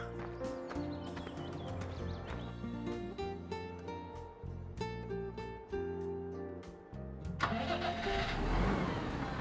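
A tractor engine in Farming Simulator cranks and starts, its steady mid-low drone running under layered game music, then surging into a louder, rougher roar near the end.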